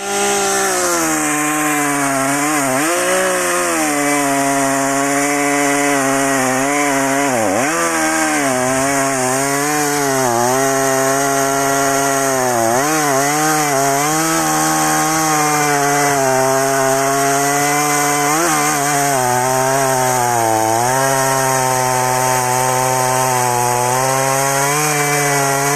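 An Echo 501P chainsaw roars continuously at close range, its engine pitch dipping and rising as it bites into wood, loud and unbroken with no talking.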